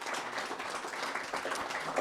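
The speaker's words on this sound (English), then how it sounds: "So give him a round of applause for that." An audience at an economic and real estate summit gives a round of applause, a dense, even patter of many hands clapping together at a moderate distance.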